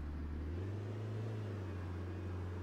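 A Setra S319 UL coach in OMSI 2 drives with a low, steady engine drone that rises slightly in pitch at first, then settles into a continuous rumble, with no talking.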